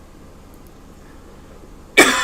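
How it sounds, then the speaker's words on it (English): A single sudden cough bursts out near the end after quiet room tone, loud and close, from a person during a livestream about cryptocurrency charts. "Sorry about the coughing, guys."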